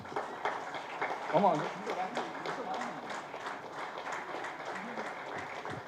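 An audience at a thank-you meeting applauds in a steady patter of clapping that runs under a nearby voice speaking throughout.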